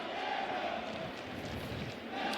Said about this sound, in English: Nice crowd on hand here.